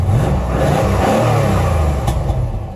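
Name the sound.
car engine revving through exhaust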